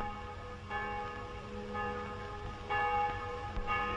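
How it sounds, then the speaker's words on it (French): Church bells ring with clear, sustained tones, several strikes layered over one another as the peals swell and fade at a moderate distance. "Et je ne vous parle pas des cloches?"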